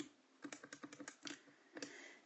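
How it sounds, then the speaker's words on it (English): Calculator keys pressed in a quick, uneven run of about a dozen light plastic clicks, close and fairly quiet, entering a normal probability calculation, with no talking. "So that's what I'm typing in my calculator right now."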